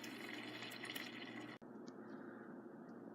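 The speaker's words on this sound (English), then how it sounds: "And now I put in the water." Water pours into a Vitamix blender container as a continuous close splashing fill that cuts off sharply midway, leaving a quieter trickle and faint drips.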